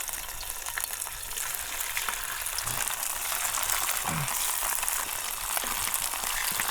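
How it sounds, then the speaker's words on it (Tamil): Marinated fish fries village-style in a pan of oil, a loud, dense, unbroken crackle and spatter that holds steady throughout, close by and without talk. "இப்போ நம்ம மீனை வறுக்க போகிறோம்"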